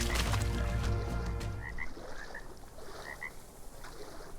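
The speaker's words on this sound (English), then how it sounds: "Come on, little frog." A frog croaks in the ARK: Survival Evolved video game, a few short paired croaks heard fairly faintly over quiet in-game ambience, following a louder burst of noise at the start.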